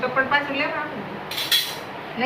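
A voice speaks at first, then steel plates, bowls and spoons clatter and clink in a short, loud burst near a stack of household utensils.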